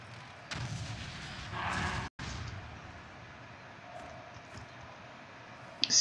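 Explosions in a video game mode built around smashing a post: a heavy blast rumbles for about two seconds, cuts off abruptly, then fainter thumps and clicks follow before a sharp burst at the end.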